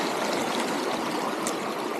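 A small creek swollen after recent rainfall rushes steadily with dense, close, broadband water noise, continuous and loud with no voices.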